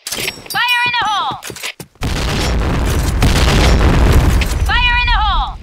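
Grenades blast in the online shooter Point Blank during a clan war, one loud booming explosion roaring on for several seconds. Synthetic game voice callouts ring out before and after it.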